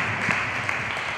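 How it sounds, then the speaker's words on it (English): A church congregation applauding visiting pastors, a dense, steady wash of many hands clapping together, evenly loud throughout with no individual claps standing out. "Let's clap hands for them."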